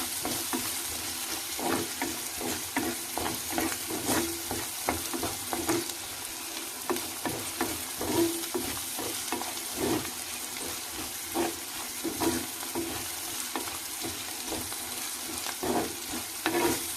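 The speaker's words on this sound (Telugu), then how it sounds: "పచ్చిమిరపకాయలు పసుపు అల్లం వెల్లుల్లి పేస్ట్ ఇవన్నీ మంచిగా ఉల్లిపాయ కలర్ వచ్చేంత వరకు అయితే వేగితే వీటితో పాటు అవి కూడా వేగిపోతాయి" Green chillies, turmeric, ginger-garlic paste and onion fry in a clay pot, a steady close sizzle broken by regular scraping and clacking strokes of a spoon stirring the mixture, with no talk.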